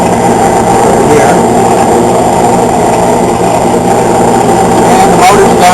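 An Acme model 8 dough sheeter running, motor mounted underneath; a loud, steady mechanical hum and roller drone that continues without a break, with a voice speaking over it.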